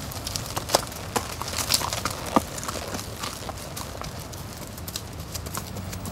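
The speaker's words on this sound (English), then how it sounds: "Occasionally, you may run into some horses." Horses walk along a path by a pond, their hooves clip-clopping in an irregular series of sharp, moderately close knocks over soft outdoor background noise.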